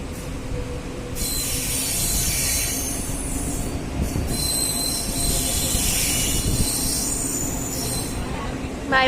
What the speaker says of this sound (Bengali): এখন বেলদা স্টেশন ছেড়ে দিল ট্রেন